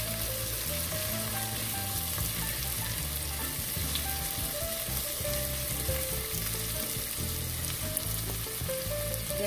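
Garlic and onion frying in a pan while making spaghetti, a loud, dense sizzle continuing steadily throughout, with faint stirring and no voices.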